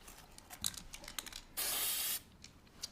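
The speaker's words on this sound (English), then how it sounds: "and then we're going to start to spray the cake." An aerosol can of spray paint gives a short, steady hiss of about half a second while spraying a styrofoam faux chocolate cake, after some quiet handling clicks.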